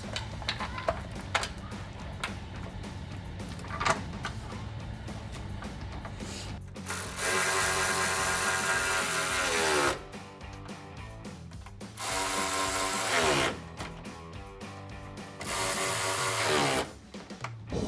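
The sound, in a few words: ratchet tightening bolts on Jeep Gladiator headlights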